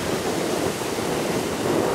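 Strong wind buffets a small fishing boat heading out to sea, with a steady roar of rushing air and surging waves, loud and unbroken, with no voices.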